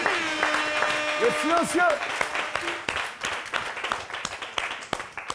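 An audience at a comedy show applauds a comedian, with a burst of clapping rising under a host's voice and continuing as scattered, fading claps.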